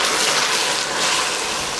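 Cold water poured into hot caramel to make pudding sauce gives a steady, loud rushing hiss and gush of liquid that fills the whole short stretch without pause.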